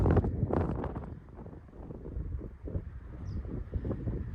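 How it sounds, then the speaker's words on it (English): Wind gusting across an open desert hillside while hiking, a steady broadband rushing and buffeting that swells and eases throughout, close and fairly loud with no voices. "Oh, the wind's gonna blow now."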